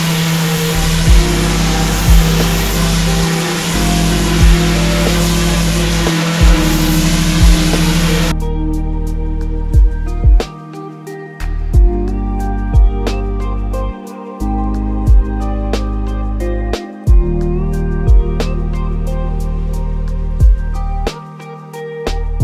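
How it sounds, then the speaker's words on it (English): A pressure washer fitted with a turbo nozzle strips sealer off pavers with a loud, continuous hiss and drone. The spray drops out and resumes repeatedly, leaving short gaps where only the motor hum remains. "We're gonna go ahead and turbo nozzle this area now."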